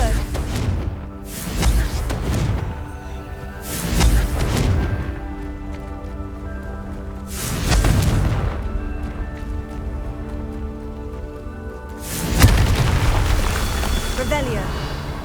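Confringo fire spell blasts in Hogwarts Legacy, several loud booming explosions at roughly even intervals, each a broad burst that swells and decays, with a heavier blast near the end over ongoing game ambience.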